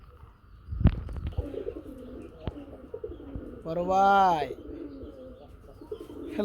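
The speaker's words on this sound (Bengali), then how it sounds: "খুব সুন্দর ডাকে, রাজগোল্লা কবুতর মাশাআল্লাহ" Rajgolla pigeons coo in a short rolling burst near the middle, with a few faint chirps before and someone talking briefly in a market setting.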